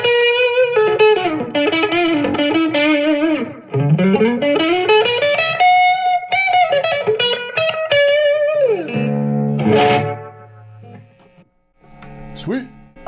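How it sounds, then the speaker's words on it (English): Electric guitar played through an MXR Carbon Copy pedal on a short slapback delay setting, bright single-note phrases and slides each doubled by a quick echo, loud and close, alone with no talk. "This first one's gonna be more of like a slapback delay, so we can see how the MXR works"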